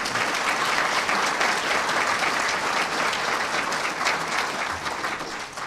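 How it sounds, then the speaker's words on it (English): Sustained audience applause honoring event staff at a Vietnam veterans tribute ceremony, a dense, steady wash of many hands clapping that holds evenly throughout without voices over it. "we can give them a round of applause"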